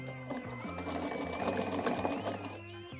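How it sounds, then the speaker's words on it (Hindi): A sewing machine runs steadily while double-stitching a lehenga, its motor whirring with a rapid mechanical needle clatter throughout, fairly close and even, with the pitch shifting slightly as the speed changes. "हम डबल सिलाई लगा देते हैं ताकि सिलाई निकले नहीं मजबूती से"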